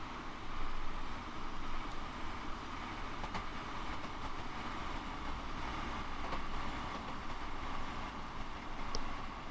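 A Class 166 Network Turbo diesel train in a driving game rolls toward a stop at Hayes and Harlington in snow, a steady, dense rumble of engine and rails with faint clicks and brief higher squeals near the end.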